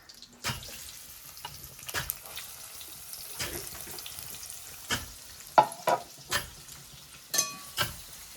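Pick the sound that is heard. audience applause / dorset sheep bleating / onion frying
onion frying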